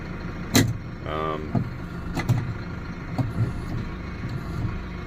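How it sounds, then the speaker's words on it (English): A tractor-mounted renovator unfolds hydraulically behind a Deutz-Fahr Agrofarm 115GS tractor: a short rising hydraulic whine and a few sharp metallic clunks over a low, steady engine rumble. "Just unfolding the renovator."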